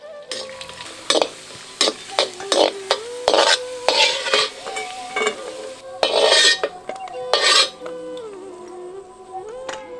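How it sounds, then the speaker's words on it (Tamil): Cashews and raisins roasting in a spoon of ghee for a temple-style coconut milk sweet, with a spoon repeatedly scraping and clinking against the pan over a soft steady sizzle, in irregular bursts of close stirring. "இப்போ ஒரு தேக்கரண்டி நெய்யில 15 முந்திரி 15 திராட்சை ரெண்டையும் நல்லா வறுத்து எடுத்து வச்சிருவோம்"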